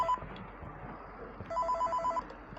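A telephone rings in Five Nights at Freddy's 3, with repeated ring bursts sounding over a low, murky game ambience and growing louder in the second half.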